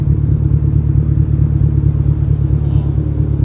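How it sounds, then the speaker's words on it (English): A 2008 BMW 550i E60 with its muffler deleted idles loudly and steadily nearby, a deep rumbling exhaust with a continuous low throb and no talking. "Pretty loud, sounds a lot better, a lot more burbles and pops and stuff like that."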